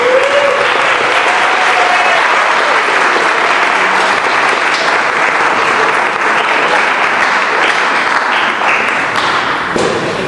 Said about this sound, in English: Let's get a round of applause for all the artists in here.